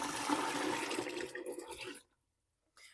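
Water pours steadily into a dye pan for natural dandelion yarn dyeing, a loud continuous splashing rush for about two seconds that cuts off abruptly, followed by silence and a brief faint trickle at the end.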